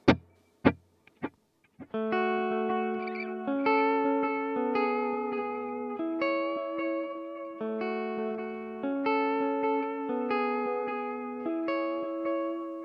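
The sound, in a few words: electric guitar with delay effect, no reverb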